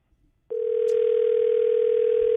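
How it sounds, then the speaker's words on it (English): A telephone dial tone comes on abruptly after a brief click and holds as a loud, steady, unbroken hum while calling a radio station's call-in line. "So I'm dialing these guys up right now."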